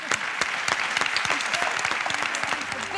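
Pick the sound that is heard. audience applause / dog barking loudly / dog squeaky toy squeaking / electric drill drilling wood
audience applause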